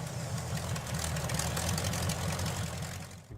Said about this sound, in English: It gets a little loud when you get into the throttle, but it idles around just fine.